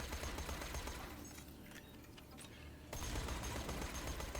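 Rapid sustained automatic fire from the Hellfire SMG in Borderlands 2, a dense continuous burst that briefly thins, then resumes at full loudness, with no voices.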